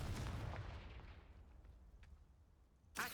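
A Confringo fire spell cast in Hogwarts Legacy bursts with a loud blast that rumbles and fades over a couple of seconds, followed by a short sharp sound at the end.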